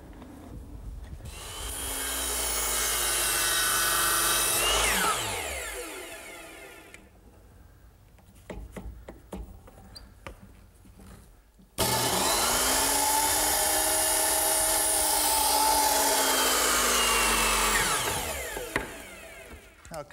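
A power saw cuts a wooden board at an 8-degree angle for a garden swing, two long whining passes, each rising and falling, separated by a short quiet gap with clicks and handling noise.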